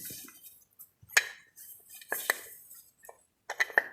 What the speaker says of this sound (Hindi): ढक्कन लगा देंगे।